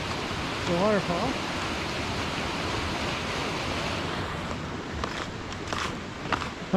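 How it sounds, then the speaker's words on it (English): Narada Falls at Mt Rainier roars as a steady, full wash of falling water heard from a bridge in winter. A voice speaks briefly over the rush. "The waterfall."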